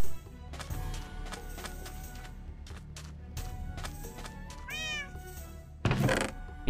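Cat meows from a Minecraft character ring out twice over a busy bed of in-game music and mechanical ambience, the second cry louder and sharper than the first, with no talking.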